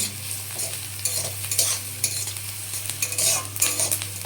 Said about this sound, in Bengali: এই দেখো, আমি পেঁয়াজগুলো এখন ভেজে নিচ্ছি।